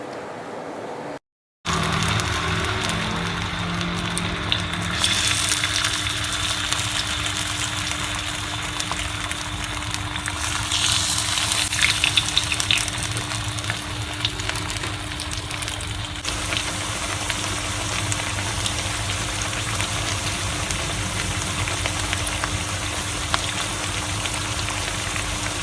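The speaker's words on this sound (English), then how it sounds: "I'm just adding all these potato pieces into it, and I'm gonna fry it, deep fry it" Potato pieces deep frying in used oil on a low flame, a dense steady crackle and hiss close by that runs on without a break after a brief silent gap near the start, with no talking.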